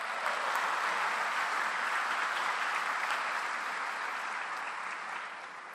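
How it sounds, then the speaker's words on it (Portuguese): A church congregation applauds in a steady, dense wash of clapping that holds for several seconds and then begins to thin and fade at the end. "Você pode aplaudir o Senhor"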